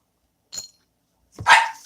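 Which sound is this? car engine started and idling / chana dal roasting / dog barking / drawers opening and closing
dog barking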